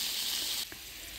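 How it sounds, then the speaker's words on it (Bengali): Eggs frying in a pan for an egg curry give a loud, dense sizzle for about half a second, then drop abruptly to a quieter, steady crackle with one soft knock. "প্রথমে ডিমগুলি ভেজে নিচ্ছি"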